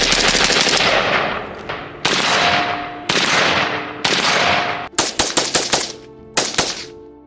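An AK-47 rifle fires loud, close bursts and single shots, each crack trailing off into a long echo, then a fast run of rapid shots toward the end, with no talking.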